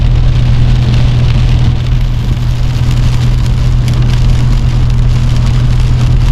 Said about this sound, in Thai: ฝนค่อนข้างที่จะตกนักนะครับ